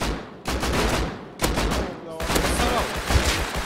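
Bursts of gunfire in the survival video game Rust, loud repeated shots in several volleys separated by brief pauses, with excited voices mixed in.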